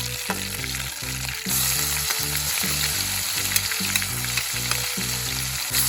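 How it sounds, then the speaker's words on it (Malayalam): Ginger, garlic, shallots and a ground spice mix frying in hot oil for pork chops, a dense steady sizzle with a rhythmic series of stirring strokes throughout, close up and with no voices. "ചൂടായി വന്ന അതേ എണ്ണയിലോട്ട് തന്നെ നമുക്ക് ഇഞ്ചി, വെളുത്തുള്ളി, കൊച്ചുള്ളി, പിന്നെ നമ്മൾ നേരത്തെ പൊടിച്ച് വെച്ച സ്പൈസസ് എല്ലാം കൂടെ"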